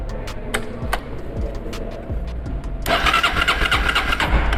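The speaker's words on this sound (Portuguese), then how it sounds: "o motor de partida vai funcionar." A motorcycle's electric starter motor cranks the engine with a loud, rhythmic churning whir, first as repeated strokes and then as a continuous louder burst near the end.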